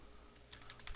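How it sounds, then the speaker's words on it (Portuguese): Quick keystrokes tapped on a computer keyboard while entering a lookup code into spreadsheet fields, a short burst of several light clicks closing in a cluster near the end, heard alone and close. "eu vou digitar o código nos outros campos, no campo de nome e no campo de vencimento"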